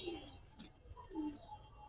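Giribaz high flyer pigeons coo softly and chirp at a distance, faint and intermittent over a low background hiss, with no voices.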